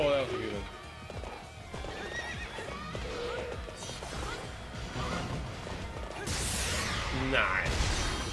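A horse in the game Hyrule Warriors neighs and whinnies over rapid clip-clopping hooves, with crashes and clattering combat sounds around it and a player talking excitedly throughout.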